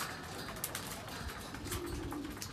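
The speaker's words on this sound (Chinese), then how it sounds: "14个鸽子已经全部都到了。" Racing pigeons in their loft after returning from a 300 km spring race, soft repeated cooing and low murmurs with faint wing flutters, near and quiet, no talk.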